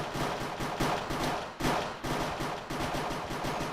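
Rapid automatic gunfire in a Counter-Strike-style mod of the video game Minecraft on the Dust 2 map, loud continuous bursts with a short break partway through.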